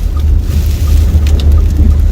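Heavy rain pours steadily through a storm over Mecca, with a continuous low rumble and scattered drops and splashes hitting surfaces nearby, loud and unbroken for its short length.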